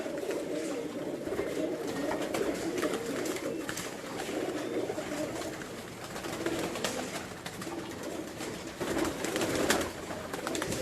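Pigeons at an ustad's house in Gujranwala cooing steadily, soft low coos repeating close by amid light rustling and scattered clicks.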